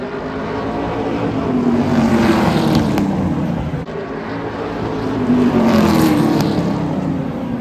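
Stock cars with crate motors roar down the straightaway at Sunset Speedway, a loud continuous engine drone that swells as they pass close, with no voices over it.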